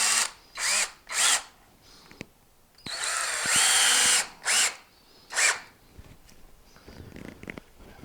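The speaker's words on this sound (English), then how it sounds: "Countersink your screws in a little bit so you don't have any snags if you got your bags on there." A power drill drives countersunk screws into a wooden plant stand for grow bags, sounding in short whirring bursts with pauses between, including one longer sustained run near the middle, close and fairly loud.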